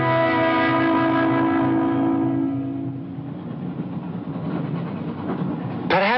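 A train rolls steadily along its rails with a continuous rumble, a strong sustained whistle tone fading early on, and a sharp rising squeal near the end, with no talk over it.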